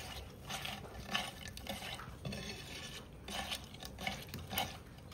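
Prawns being mixed by hand with turmeric and salt for village-style dab chingri, giving soft, close, wet squelching and rubbing sounds in irregular bursts, with no talking.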